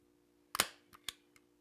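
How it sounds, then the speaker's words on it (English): Staple gun fired into fabric on a Pennsylvania back country antler mount: one sharp snapping shot, then two lighter clacks and a faint fourth click, close and dry in a quiet room. "Then we want to staple down the top."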